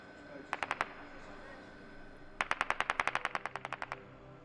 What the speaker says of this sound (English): Overnight, a now upsettingly familiar crackle of gunfire for many in Ukraine.